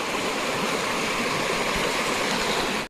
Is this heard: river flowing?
yes